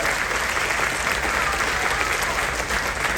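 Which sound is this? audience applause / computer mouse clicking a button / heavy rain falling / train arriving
audience applause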